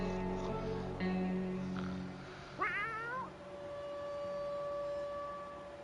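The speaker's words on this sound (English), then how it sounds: "That sounded like the cat was angry a minute ago." An angry cat meows in the video game 60 Seconds, a single rising and falling yowl over a steady droning tone and game music.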